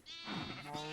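Sheep in a Minecraft world bleat with a steady, wavering synthetic baa that carries through the full second, close and clear with no voices over it.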